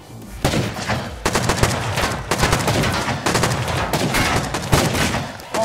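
Rapid automatic gunfire in the survival video game Rust: loud, dense bursts crackle almost without pause, with a few brief gaps between volleys.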